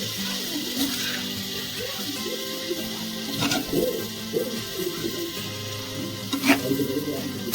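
Paneer being gently mixed in a pan, heard as soft, intermittent scraping and stirring over a low sizzle, close and unhurried, with faint background sounds.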